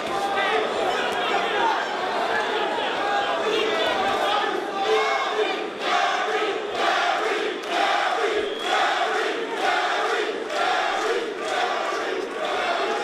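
Boxing crowd at a pro fight where the local fighter has home support, a steady loud roar of chatter and shouts with rhythmic surges of cheering throughout.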